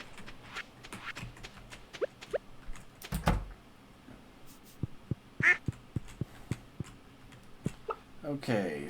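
Ducks quacking inside a coop in the farming game Stardew Valley, with several short quacks scattered across the clip among game sounds and clicks, and a voice talking now and then.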